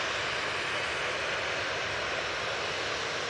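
A Ryanair airliner taxis onto the runway at Manchester Airport, its jet engines producing a steady, loud, hissing roar throughout.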